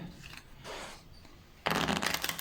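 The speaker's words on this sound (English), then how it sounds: "I would shuffle the cards one more time" A deck of playing cards is shuffled up close in a card-magic demonstration: a couple of short riffling bursts, then a louder, dense riffle toward the end, with no talk.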